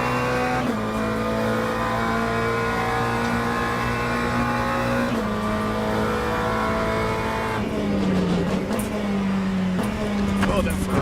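GT3 race car engines at Sebring in the Le Mans Ultimate sim, a steady loud drone with pitch shifting through gear changes and throttle lifts, continuous for about eleven seconds.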